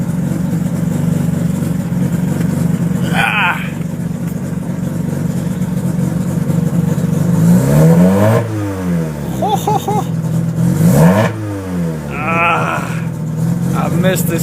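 Freshly rebuilt Mazda RX-7 rotary engine on its first start-up, idling high with a buzzy drone, then blipped in quick sharp revs that rise and fall, close by, with people talking around it.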